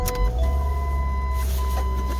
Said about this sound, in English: let's start the car up.